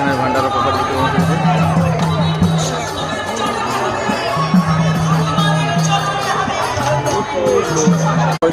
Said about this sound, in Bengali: প্রচন্ড ভিড় এখানে ভান্ডারার প্রসাদ।